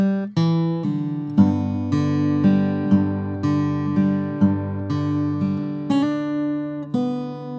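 Acoustic guitar playing the picked line from a song, including a quick grace note, with a steady fingerpicked pattern of bass notes and ringing treble strings, clear and close with no talking.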